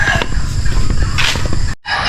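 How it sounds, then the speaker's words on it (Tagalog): Chickens on a rainy farm cluck and squawk close by in a dense, busy chorus, with a brief drop near the end. "At may mga manok tayo dito"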